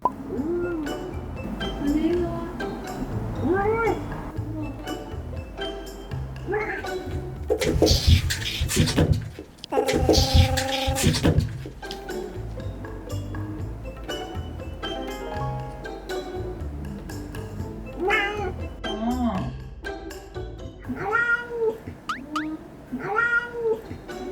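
A cat meows repeatedly in short, rising calls, close by, with a burst of running water or rustling in the middle and quiet voices now and then.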